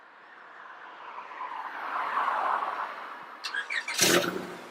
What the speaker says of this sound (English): So this is a cold start.